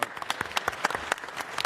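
Brief, fairly faint applause from a city council meeting audience greeting the new city clerk, a scattering of separate claps over a couple of seconds.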